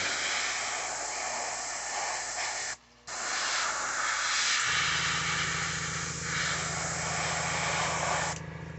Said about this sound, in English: airbrush away and put your colors on there